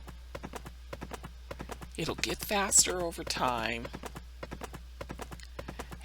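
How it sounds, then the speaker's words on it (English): In a video game, a rideable horse's hooves clip-clop in a quick, even, light patter that carries on throughout, while a voice talks over the middle of it. "I can ride this horse right now."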